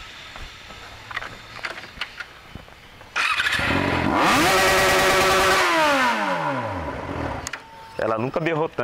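An XJ motorcycle engine revs hard, surging to a loud, close roar, climbing and then winding back down over several seconds before cutting off, with quieter background sounds before and after.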